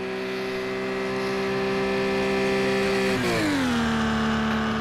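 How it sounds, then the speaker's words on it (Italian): A Porsche Cayman's engine in Project Cars 2 holds a loud, steady high-revving drone during a race at Bathurst, then drops in pitch as it shifts, with no talking over it. "Adesso devo chiedere tutto al motore della sua Porschettina."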